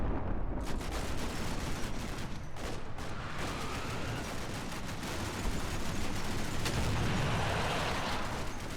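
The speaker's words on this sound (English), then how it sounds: "some of this mortar fire is being useful, but it's a little bit too far back" Mortar fire in the Combat Mission: Cold War video game, a dense, continuous barrage of blasts and crackling gunfire rumbling at steady loudness throughout, with no talk.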